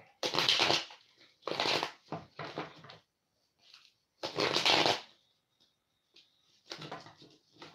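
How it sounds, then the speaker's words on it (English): A deck of cards is shuffled in several quick riffling bursts separated by short pauses, close and fairly loud, with no speech. "Okay, Hartley, I will pull a card for you, my love."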